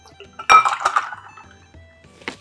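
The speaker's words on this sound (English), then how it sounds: "Now we're gonna do a dirty dump right into our cocktail glass." A shaken cocktail and a large clear ice cube dumped straight from the shaker into a cocktail glass, giving a loud clattering clink and rattle of ice against glass that fades out, then one lighter clink, with no talking.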